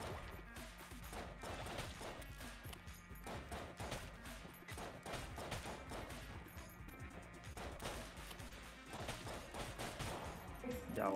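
Gunfire from a single gun in a video game shooter, dense and continuous shots and crashes running throughout, loud and busy with a voice faintly underneath.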